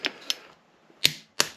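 A torque wrench clicks as it tightens bolts on a Triumph Tiger Sport motorcycle during fork and head stock servicing. Four crisp, close metallic clicks arrive in two pairs with a short pause between them.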